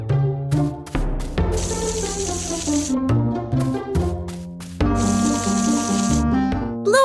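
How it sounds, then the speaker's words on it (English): A watering can pours water over garden plants in an animated cartoon, giving two bursts of hissing, splashing flow layered under bright, busy background music. "Bluey prepares to water the plants in the garden"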